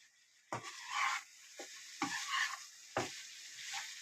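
Liver and amaranth leaves are stir-fried in a pan, with four or five scraping, sizzling strokes as a spatula tosses the mixture. The sound is close and fairly quiet, with hissing between the strokes.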